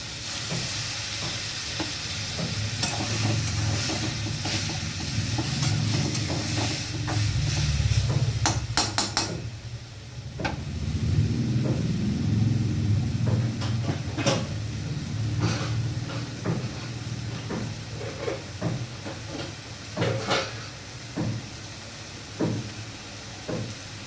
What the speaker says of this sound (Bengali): এর সঙ্গে আমি দিয়ে দিচ্ছি সামান্য মশলা ধোয়া জল।